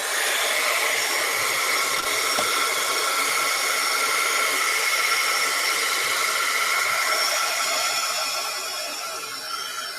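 Hair dryer blowing on very wet watercolor paint, a steady broadband airy whoosh held for the whole stretch, easing slightly near the end, with no talk.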